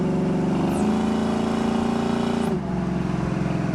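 A 1971 Chevrolet Chevelle SS drives down the road, its engine a steady loud drone that holds pitch, then drops slightly as the throttle eases, heard from inside the car.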